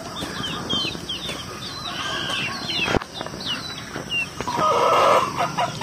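Native chickens and a flock of about 35 chicks raised in a small coop: steady high peeping from the chicks mixed with hens' clucks and a brief burst of wing flapping, close and continuous with no talking.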